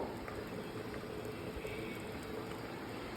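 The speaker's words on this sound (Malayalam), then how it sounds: "അപ്പം നമ്മുടെ കൂട്ടാൻ നല്ലപോലെ തിളച്ചിട്ടുണ്ട് നോക്കൂ" Mango and lentil curry bubbles as it boils in a pot, a faint, continuous, close-up simmering with no talking.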